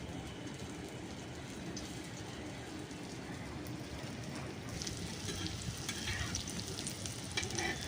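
Breadcrumb-coated potato snacks shallow-frying in a little oil give off a steady, dense sizzle that holds for the whole stretch without a break, growing slightly brighter and crackly toward the end, with no voices.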